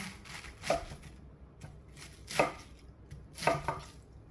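Knife chops through cabbage in large pieces on a cutting board in three distinct heavy strokes, with softer cutting noise between them, close and clear.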